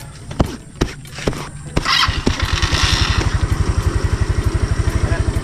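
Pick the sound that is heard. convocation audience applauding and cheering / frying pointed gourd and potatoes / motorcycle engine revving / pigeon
motorcycle engine revving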